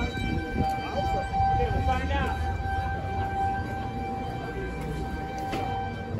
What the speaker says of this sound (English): Never had the tornado siren go off when I'm on it.